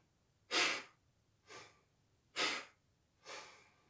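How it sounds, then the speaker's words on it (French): Four forceful breaths during a breathing exercise, each a voluntary exhale driven by contracting the lower belly, alternating strong and softer airy puffs at a steady pace, close and alone. "j'ai fait le mouvement volontaire d'expirer en contractant mes bas-ventre au niveau du nombril"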